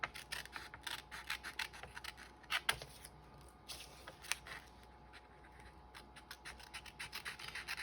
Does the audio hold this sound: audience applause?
no